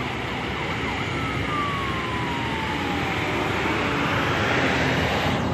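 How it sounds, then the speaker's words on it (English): An ambulance siren wails over loud, steady traffic rumble, its pitch sliding down as the ambulance passes by responding to a car accident. "A third ambulance for this accident."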